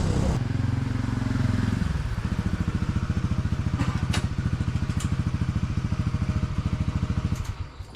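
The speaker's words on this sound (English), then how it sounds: "It's still early when I hear a motorcycle outside my house." A motorcycle engine outside a house in Vietnam, revving at first, then settling into a steady, rhythmic, close idle thump that runs to the end.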